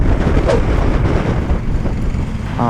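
Strong wind before rain buffets loudly and continuously in gusts, a rough roaring rush with no voices.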